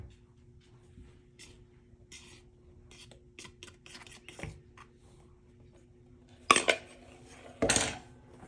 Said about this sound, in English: Now I'm gonna add the dry ingredients to the wet ingredients